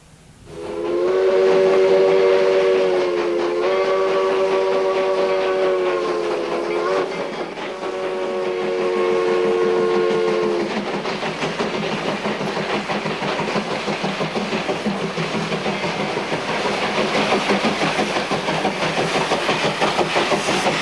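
A Virginia and Truckee Railroad train sounds a long, loud steam whistle in several blasts, then rolls on along the track with a steady clickety-clack of wheels.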